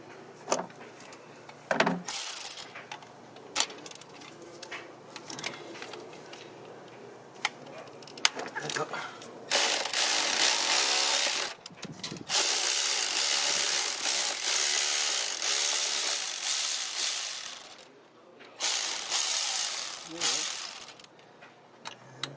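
Ratcheting clicks from a swivel-type number 12 wrench turning bolts on a 2005 Honda Civic engine during cylinder cam plug replacement, coming in short bursts with gaps, then longer steady runs of clicking, close and fairly loud.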